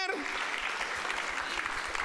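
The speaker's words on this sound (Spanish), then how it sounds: "dele palmas al Señor, hermanos" Church congregation clapping hands in rhythm during a Spanish-language service, a steady, moderately loud beat of claps with a faint voice mixed in.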